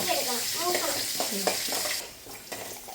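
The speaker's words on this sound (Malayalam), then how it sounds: "ഇനി ഒന്ന് ഇളക്കി എടുക്കണം അല്ലേ?" Food sizzles in a pan while a spoon stirs it, with scraping strokes and a few clinks over steady frying noise, and someone speaks briefly in the background.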